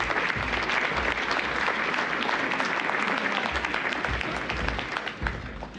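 A conference audience breaks into sustained, even applause as a speaker walks to the stage, many hands clapping densely and fairly close, easing slightly toward the end.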